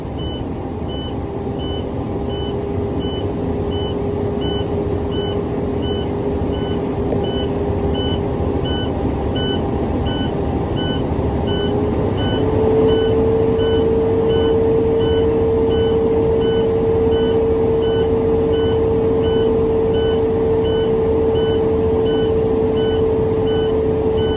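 A truck's low air pressure alarm beeps in a fast regular pattern over the loud, constant drone of the idling truck engine.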